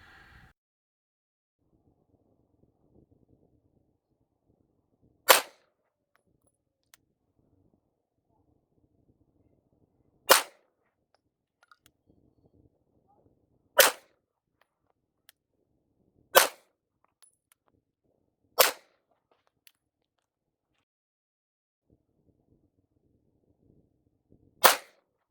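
Five Federal Syntech Match rounds are fired in a quiet outdoor setting, one sharp crack every few seconds at irregular spacing, with near-silence between the shots and a sixth crack right at the end.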